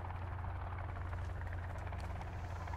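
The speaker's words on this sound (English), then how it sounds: "There's a helicopter!" A helicopter flies overhead in the video game Sons of the Forest, making a steady, loud low thrum and rotor buzz with no talking over it.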